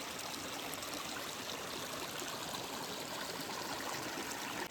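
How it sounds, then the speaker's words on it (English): Glacier Creek rushes continuously over rocks, a full, even roar of flowing water with no voices. "This is Glacier Creek."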